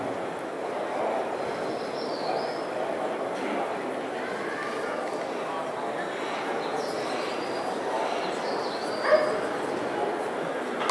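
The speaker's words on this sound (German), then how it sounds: "Jamie ist dies ja unser ältester Hund." A dog barks at a German hunting-and-dog event, sharp yips and barks coming from some distance over steady outdoor background noise, with people talking throughout.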